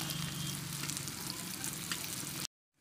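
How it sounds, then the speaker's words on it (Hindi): Garlic, onion and green chilies frying in a pan for a spicy dry cabbage dish, heard as a steady, soft, dense sizzle that runs evenly and then cuts off abruptly into silence, with no talking. "लहसुन और प्याज मिर्ची फ्राई हो चुकी है, मतलब अच्छी तरह से ब्राउन हो गई है।"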